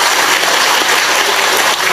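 An audience claps together at a religious study gathering, a dense loud applause that fills the whole short moment with no voices above it.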